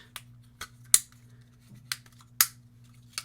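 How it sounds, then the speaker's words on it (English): Plastic panels on a Transformers War for Cybertron Trilogy Quintesson toy figure click sharply into place, six crisp snaps spaced irregularly over a few seconds against a faint steady background hum, with no voices. "You're just flipping up panels, click, click, click,"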